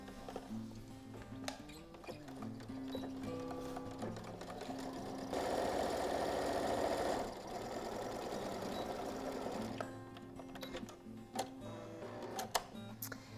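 Close and steady, a sewing machine stitches the long sides of a denim tablet sleeve with a 1 cm seam allowance, its rhythmic ticking motor running throughout and speeding up into a denser whir for a few seconds midway.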